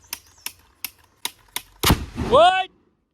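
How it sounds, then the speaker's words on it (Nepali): A gas-powered monkey scare gun lets out one loud, sharp bang after a series of quick mechanical clicks as it is readied, followed by a brief ringing tail. "कत्रो साउन्ड आउँछ भने बम पड्का जस्तै होइन बन्दुक पड्काउँछ नि"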